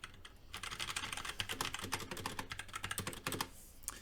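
Dense, rapid typing on a mechanical keyboard, with the spacebar in the mix, during a livestream unboxing and review of keyboards. Keystrokes clatter close and steady for several seconds, with no one speaking.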